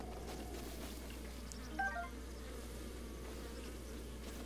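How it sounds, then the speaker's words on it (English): Bees buzz in Zelda: Breath of the Wild, a faint steady insect drone under quiet game ambience, with a brief louder swell midway. "There are bees, but I don't want to get stung."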